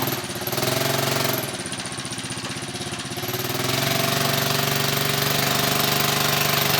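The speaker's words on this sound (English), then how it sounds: "we're hoping that we can get through to the other side and check out the trail with the ATV" An ATV engine revs loudly and steadily as it pushes through a muddy trench on a forest trail, with a rough, pulsing mechanical chug that deepens and grows heavier midway.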